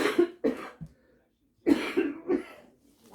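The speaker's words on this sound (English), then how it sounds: "The coughing is not great." Several coughs in short bursts from someone nearby, a pair early on and then a longer rough run of coughing after a brief pause, close and fairly loud against a quiet room.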